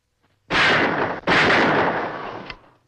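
Two loud broadband blasts of gunfire from a 1955 Western film ring out close together, each decaying with a short echo tail, with no voices over them.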